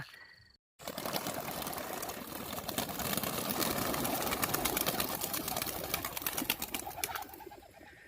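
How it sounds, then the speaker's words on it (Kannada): A flock of racing pigeons released for a 25 km training flight flutters and takes off together, a dense rush of wingbeats and cooing lasting several seconds before tapering off. "ಈಗ ಬನ್ನಿ ಬರ್ಡ್ಸ್ನ ನಾವು ರಿಲೀಸ್ ಮಾಡೋಣ."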